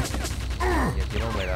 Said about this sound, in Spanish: siguen teniendo como una especie de láser ese que conocemos, la ametralladora